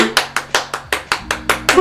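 Nine or so sharp hand claps in a steady even rhythm, loud and close, with a low tonal voice sound running underneath.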